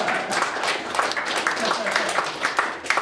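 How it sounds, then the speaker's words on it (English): An audience at a magic show at the Mystery Lounge breaks into steady applause, dense clapping filling the room while a performer keeps talking over it. "Give them a big round of applause."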